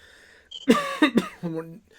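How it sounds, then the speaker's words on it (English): A few short, harsh coughs in quick succession, close up, followed by a brief voiced sound. "I'm still battling a cough"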